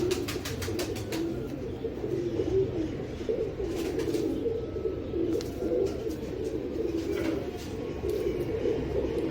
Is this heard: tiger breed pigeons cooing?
yes